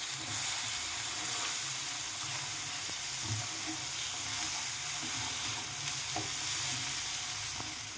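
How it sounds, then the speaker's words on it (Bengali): Beet chicken with ground black pepper being stirred in a hot pan in a Bengali home kitchen, a continuous close sizzle and fry with faint scraping of the spoon throughout, no voices. "এবার এটা হালকা হাতে একটু নাড়াচাড়া করে দিলাম।"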